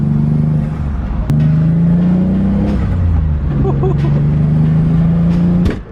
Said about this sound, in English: I like the little turbo noises.